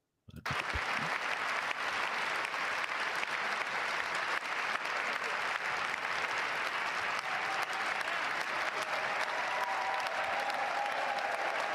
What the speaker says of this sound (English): Everybody in the room should be standing up, clapping on that